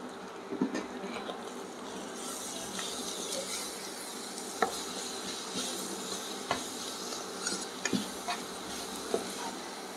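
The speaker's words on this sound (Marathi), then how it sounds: "तर आता आपण ही भाजी वाफवून घेतलेली ती टाकूया याच्यात।" Steamed bharangi greens are added to a hot pan and stirred, giving a steady sizzle with occasional sharp scrape and clink sounds from the spoon, and no voices.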